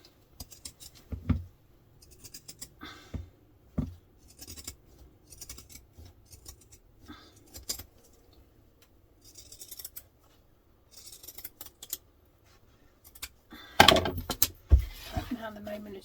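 Scissors snipping vinyl webbing for a fabric diaper clutch, giving sparse, close, crisp cuts and small handling rustles spread across a quiet stretch, with a louder burst of clatter near the end.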